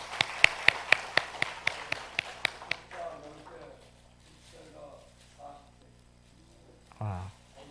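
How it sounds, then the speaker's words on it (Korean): Applause during a Korean church worship service, a brisk run of sharp, evenly spaced claps that fades out after a few seconds, followed by quieter room sounds and faint voices. "다시 한번 박수해 주시기 바랍니다."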